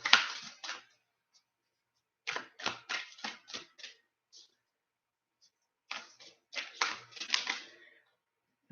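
Two bursts of riffling as an oracle deck of cards is shuffled, each a quick run of crisp, close snaps separated by quiet pauses.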